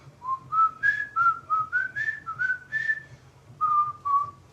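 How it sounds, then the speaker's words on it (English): A person whistles the Harlem Globetrotters theme melody while doing pow-wow dance warm-ups, a clear run of rising and falling whistled notes in short phrases, close and fairly loud, with no talking. "I don't know if I whistled that melody right."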